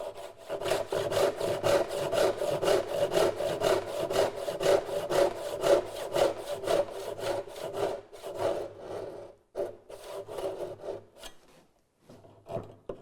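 A hand saw cuts a dovetail in wood, its rapid, even strokes rasping in a steady close rhythm, then slowing and stopping with a few scattered final strokes near the end.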